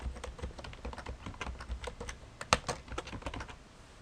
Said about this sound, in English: I'll type in the name that I want to give the directory and I'll press OK